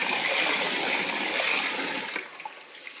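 Water runs and splashes loudly over soaked ration rice being rubbed and rinsed in a bowl, a continuous close gush that cuts off near the end, leaving faint drips and small clinks.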